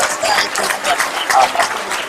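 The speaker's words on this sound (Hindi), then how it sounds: "इसके लिए जोरदार तालियां" A crowd applauds loudly and steadily, many hands clapping in a dense, continuous burst throughout.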